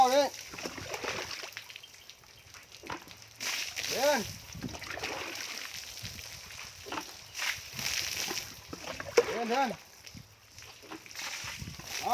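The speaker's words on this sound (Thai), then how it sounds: "เราจะสาดน้ำให้ก่อนนะครับ" Water is splashed repeatedly in a few separate bursts of sloshing and splattering, heard close up. Someone talks between and over the splashes.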